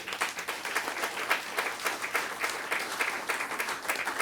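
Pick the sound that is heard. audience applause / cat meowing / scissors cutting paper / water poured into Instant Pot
audience applause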